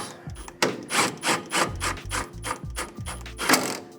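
A ratchet wrench snugs up a suspension bolt on a Mazda NA Miata MX-5 during a strut and spring install, producing close, rhythmic bursts of clicking with short pauses between strokes.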